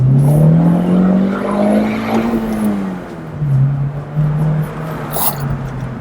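A supercharged 2013 Honda Mugen CR-Z engine revs up close and loud, its drone climbing in pitch, then dipping and rising again as it accelerates, with a faint whine on top.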